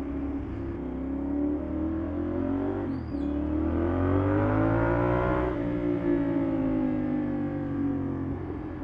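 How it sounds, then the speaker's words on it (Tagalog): A loud motorcycle engine drones and revs close by, its pitch rising and falling steadily for several seconds without pause. "Grabing ingay ng motor na yun, may ingay pa sa motor ka."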